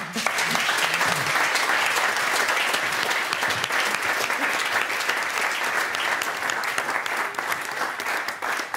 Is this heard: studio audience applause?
yes